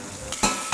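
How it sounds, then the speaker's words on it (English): Pork sizzling as it browns in a pan, a short, close burst of frying hiss with a couple of louder stirring scrapes. "So I'm just going to finish browning this batch, take that out, put the next batch in"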